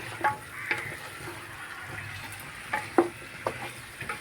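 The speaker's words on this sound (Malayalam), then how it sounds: "നന്നായി ഇങ്ങനെ ഇളക്കി കൊടുക്കാം കേട്ടോ നമ്മുടെ ചിക്കനിലേക്ക് ഈ മസാല ഒക്കെ ഒന്ന് നന്നായിട്ട് പിടിക്കുന്ന രൂപത്തിൽ നന്നായി ഒന്ന് ഇളക്കി കൊടുക്കാം" Chicken is stirred with masala in a pan for Arabic madhooth: soft spoon scrapes and occasional clinks against the pan over a faint, low frying sizzle, with no talk.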